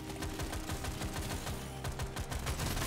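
A minigun in the Deep Rock Galactic Survivor game fires in a continuous rapid rattle of dense, evenly spaced shots, loud and unbroken throughout, with no talking.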